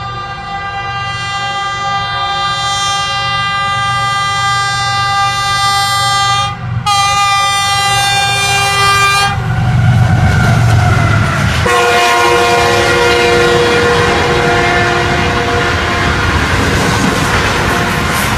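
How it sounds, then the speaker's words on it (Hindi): A Pakistan Railways express train races through a railway station, its horn blaring loudly and steadily for several seconds, then the rumble and clatter of the passing cars close by, with no voices. "जब जिन्ना एक्सप्रेस तेज़गाम को ओवरटेक करने के लिए रफ्तार से आ रही थी"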